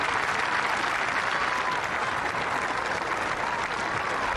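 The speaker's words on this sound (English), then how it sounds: "Tremendous applause for a tremendous player." Golf gallery at the 2024 Amgen Irish Open giving Rasmus Højgaard sustained, dense applause after a three-birdie finish, a broad steady wash of clapping from a large outdoor crowd, fairly distant and without a break.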